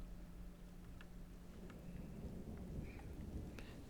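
Thunderstorm in the video game Dwarf Fortress, a low continuous rumble of thunder under a steady hiss of rain, with scattered light taps and patters over the top.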